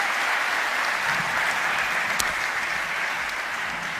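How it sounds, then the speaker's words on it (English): Sustained audience applause for Ensemble Momentum at the WRO International Final 2022, a dense steady wash of clapping from a large crowd with no talk over it. "a big round of applause for Ensemble Momentum"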